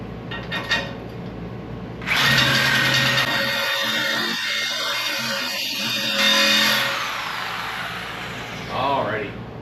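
A Sawzall reciprocating saw grinds through a steel truck bumper in a garage, a loud rasping burst that starts a couple of seconds in and runs steadily for several seconds, with someone talking over and around it.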